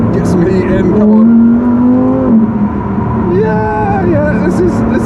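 A Lamborghini Huracan Evo RWD's V10 engine revs loud and close, pitch climbing, dipping and climbing again under load, with a voice speaking over the engine.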